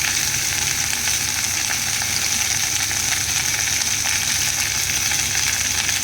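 Sweet potato and mixed vegetables fry in a pan over a village kitchen fire, a steady, close, continuous sizzle and crackle with faint stirring, no voices.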